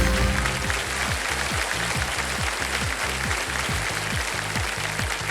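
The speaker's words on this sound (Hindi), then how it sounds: "ताली पहले बज गई।" Studio audience applause on the quiz show Kaun Banega Crorepati, a dense steady burst of clapping over a rhythmic pulsing music beat, loud and continuous throughout.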